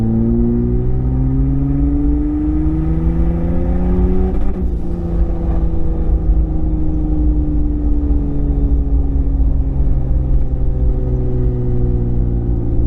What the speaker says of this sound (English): we're still running the motor in, so we're not doing a high rev tune, power tune